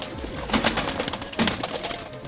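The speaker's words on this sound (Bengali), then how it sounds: "দেখুন মাদি কবুতরটা দেখুন, খুব সুন্দর" Fancy pigeons in a breeding loft coo in soft repeated bursts over a steady background hiss, with a couple of louder throaty calls standing out near the start and middle.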